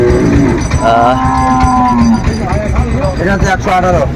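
Sahiwal cattle at a livestock market in Noakhali give long, loud, close moos, one drawn out and others following, amid crowd noise and voices talking.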